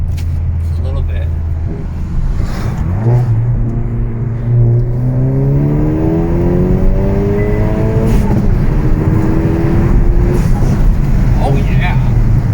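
A 2022 Hyundai Veloster N accelerating hard with the window down, its engine note rising steadily through a long pull, loud and close under a constant roar, with a voice talking over it.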